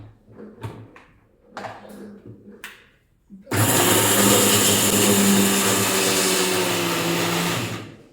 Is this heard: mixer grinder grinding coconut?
yes